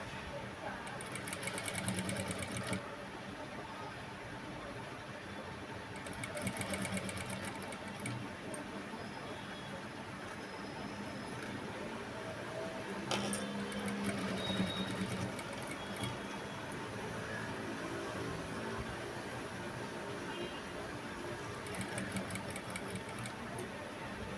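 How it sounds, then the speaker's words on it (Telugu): A sewing machine stitches a work blouse in repeated bursts, each run a rapid close ticking whir, with someone talking between and over the stitching runs. "చూడండి ఎలా స్టిచ్చింగ్ చేస్తున్నాను"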